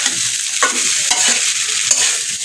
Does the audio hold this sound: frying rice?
yes